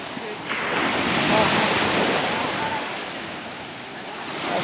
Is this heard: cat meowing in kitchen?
no